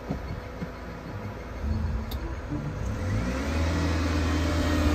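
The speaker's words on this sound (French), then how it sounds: "Tu mets la première et puis maintenant tu accélères doucement. Et là voilà la voiture qui part." A car pulling away in first gear under gentle acceleration, its engine note rising smoothly and growing steadily louder, with no voices.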